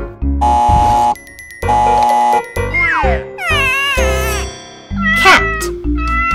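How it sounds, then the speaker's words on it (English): A cat meows several times, drawn-out and rising, heard among other synthetic tones and chimes with short gaps between calls. "Cat"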